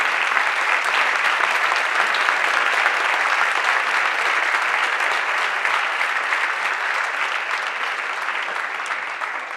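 An audience at a conference applauds trustees standing to be acknowledged, with a loud, dense wash of clapping that continues steadily and tapers only slightly near the end.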